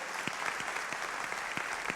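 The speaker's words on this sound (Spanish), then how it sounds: "Bueno, dale el aplauso porque ya," Church congregation applauding during a sermon, a steady, somewhat distant wash of many hands clapping with a few sharper individual claps standing out.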